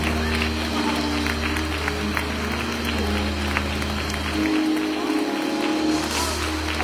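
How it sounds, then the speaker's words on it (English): A congregation claps during Sunday morning worship over a constant low hum of music and crowd noise. The clapping is continuous but somewhat buried in the dense sound. "clap your hands and give Him glory"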